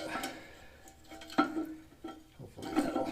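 A household toilet with a faulty float and flapper is flushed, giving a sudden rush of water followed by gurgling and draining swells, close by and with no voices.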